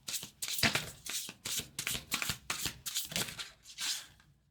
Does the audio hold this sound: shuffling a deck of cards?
yes